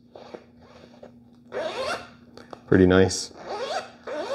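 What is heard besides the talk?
zipping and unzipping RockBros bicycle frame bag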